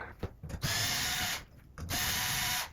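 Removal of a ceiling fan mounting bracket: two close, loud bursts of ratcheting tool work, each lasting about a second with short pauses between, and no talking.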